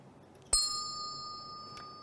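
A single bright strike of a monastery bell rings out and fades slowly, followed by a fainter second tap about a second later, heard alone in a quiet room.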